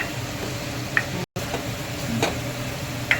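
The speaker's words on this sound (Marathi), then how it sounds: "कोबऱ्याचा पेस्ट घातलेला आहे ब्राऊन कलर होईपर्यंत तेलामध्ये द्यायचं" Onion and coconut paste frying in oil while being browned for an arbi (taro root) curry, a steady low sizzle broken by a few sharp clicks of a spoon against the pan, with a very brief dropout near the middle.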